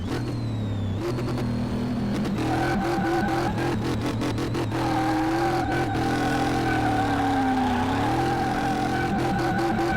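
A 942-horsepower supercharged car in the Car Mechanic Simulator game whines and revs, its engine tone rising and dropping repeatedly with short bursts between, steady and close with no talking.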